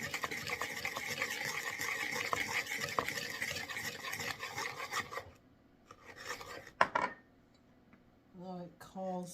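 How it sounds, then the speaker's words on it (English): Flour and baking soda stirred in a bowl, a dense rasping scrape repeated quickly and close for about five seconds, then quieter with a clink and a voice speaking at the end. "I'm going to stir that up."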